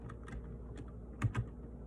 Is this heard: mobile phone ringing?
no